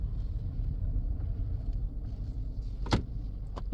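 A Toyota car with a semi-automatic MMT gearbox idles after being started without the starter, giving a low, steady engine rumble with a brief sharp click partway through.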